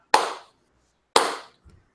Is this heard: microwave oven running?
no